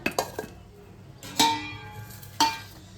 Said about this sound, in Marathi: तर सगळ्यात अगोदर आपण मिरची कट करून घेऊया।